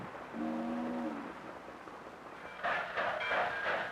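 A train on a railroad sounds a steady horn blast, then rolling rail clatter and rumble build up at moderate distance, with no talking over it.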